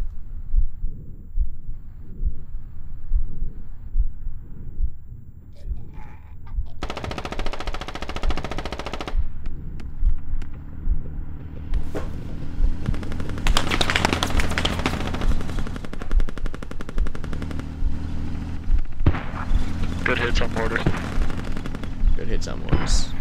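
Mortar rounds firing in the tactical shooter Squad, heavy booming gunfire in loud repeated bursts through most of the stretch, with distant blasts and voices talking over the barrage.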